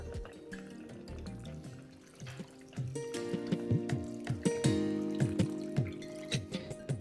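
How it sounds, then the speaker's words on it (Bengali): Small-grain rice for pongal is washed by hand in a bowl of water, giving soft sloshing, splashing and dripping sounds that grow busier partway through, with no talking. "ব্যাস, এবার এটাকে আমি 2 থেকে 3 বার ভালো করে ধুয়ে নিচ্ছি।"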